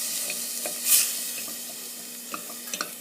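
Goulash meat of about 15% fat cooking in a pan, a steady close sizzle with occasional utensil clicks and a brief hissing burst early on, no talk.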